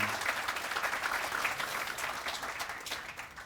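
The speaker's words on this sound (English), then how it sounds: "give them a big round of applause" An awards ceremony crowd gives staff a big round of applause: dense, continuous clapping filling the room for a few seconds at a fairly even level.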